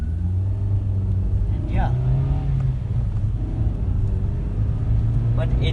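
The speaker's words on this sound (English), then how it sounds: "You do properly hear the engine noise of this car." A small hatchback's engine drones steadily from inside the cabin while driving, a constant low rumble with slight revving swells, as someone talks briefly over it.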